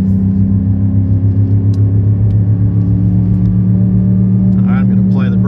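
Gas GMC Sierra 2500 HD pickup holding in first gear on a steep 25% grade while towing a travel trailer, a loud steady low engine drone with a faint brief voice near the end.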